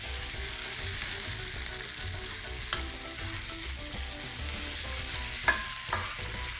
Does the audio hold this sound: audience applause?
no